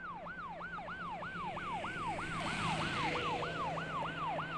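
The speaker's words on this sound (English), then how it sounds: "And then I've also got this siren that approaches and stops." A wailing emergency vehicle siren sweeps up and down in a regular repeating cycle, loud and close as it draws near and then holds in place.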